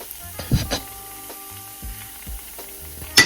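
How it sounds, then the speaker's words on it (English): Sun-dried tomatoes dropped into a hot pan for a one-pan creamy Tuscan chicken, giving short bursts of sizzling and scraping stirs at close range, with a clatter near the end. "I'm gonna go in with the sun-dried tomatoes."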